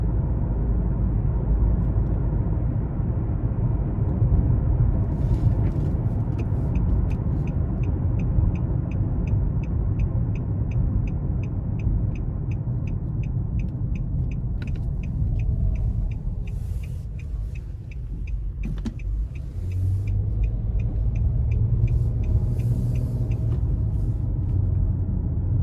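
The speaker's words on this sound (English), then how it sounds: "the road noise is pretty good, and I can hear the engine just a little bit" Cabin of a 2022 Nissan Murano Platinum while driving, with a low steady road rumble and faint engine hum underneath, a soft series of ticking clicks running through the middle.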